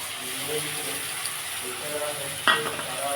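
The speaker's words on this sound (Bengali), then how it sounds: "দিয়ে এটাকে ভালো করে আমি কষি" Spinach and paneer masala with sour yogurt is stirred and sautéed in a pan, giving a continuous sizzle with scraping stir sounds and a single sharp clack of the spoon near the end.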